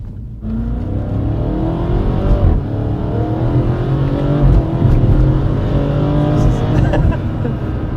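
A BMW F20 M135 fitted with an S63 twin-turbo V8 drives fast on a wet road, its engine a loud, close, steady roar that rises and shifts through the gears from start to end.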